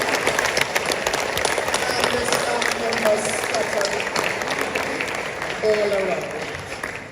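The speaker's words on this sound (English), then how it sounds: "I invite a round of applause for our teachers" An audience at a high school graduation ceremony applauds the teachers with a steady bed of clapping, heard under someone speaking into a microphone.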